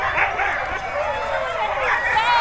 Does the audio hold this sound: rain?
no